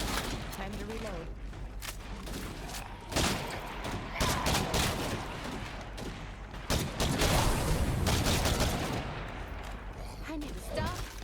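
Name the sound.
gunfire in the video game Daybreak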